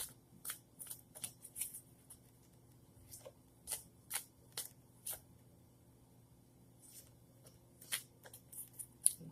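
Oracle cards are shuffled in repeated quick riffling bursts separated by short pauses, crisp and close, in an otherwise quiet room.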